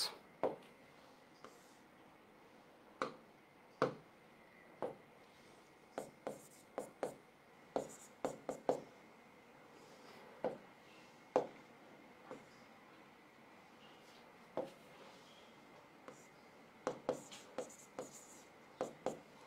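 Pen or chalk writing out an electrochemistry equation by hand, heard as a long run of sharp, close scratching strokes and taps in irregular bursts, alone with no talking.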